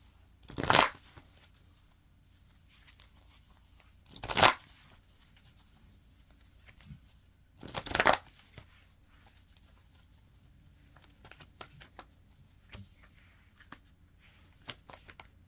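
Tarot cards are gathered and shuffled in three loud riffling bursts spaced a few seconds apart, close up, followed by softer scattered taps and card handling in a quiet room.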